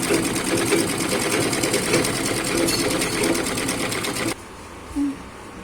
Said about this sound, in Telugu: స్ట్రైట్గా కుట్టేసుకోవాలండి